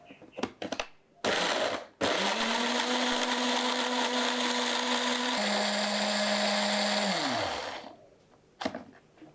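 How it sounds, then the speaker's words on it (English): A blender purees chili spice paste with galangal, salam leaf and water until smooth, a loud steady motor whine running several seconds, shifting pitch once before winding down, with brief clatter before and after. "Blend it until smooth."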